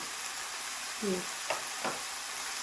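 Spices including Kashmiri red chili powder, turmeric, salt and garam masala frying in a pan, a constant hissing sizzle with a few brief scraping strokes of stirring and a faint voice-like murmur midway.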